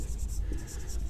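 A pen writes a chemistry formula for acetic acid on paper or a board, soft scratchy strokes heard close and faint, under a low background hum.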